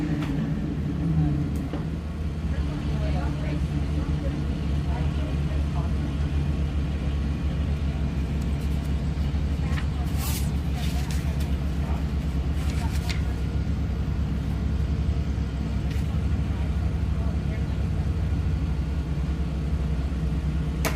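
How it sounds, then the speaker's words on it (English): A 4800 Bomber chassis race car idles and rumbles at a dirt track qualifying event in Broadview, Montana, a steady low engine drone with an announcer talking over it. "So I hear Jay Schwab showing off a little horsepower"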